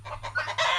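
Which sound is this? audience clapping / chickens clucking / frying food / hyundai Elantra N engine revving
chickens clucking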